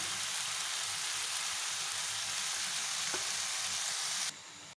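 Watermelon rind is stirred with tomato sauce in a pan, producing a dense, steady frying sizzle up close that cuts off abruptly near the end, with no talking.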